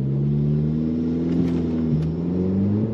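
Audi A4 B8 with an aftermarket downpipe and crackle tune launching hard, a deep engine drone rising in pitch with a brief shift-like dip and a few pops, loud and close.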